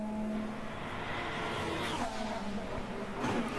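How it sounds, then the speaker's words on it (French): A Formula 1 car re-accelerating during practice at the Saudi Grand Prix, with a steady engine drone that climbs in pitch near the end, heard through a broadcast feed with a voice talking over it. "Voiture très réactive pour Fernando Alonso à la réaccélération ici"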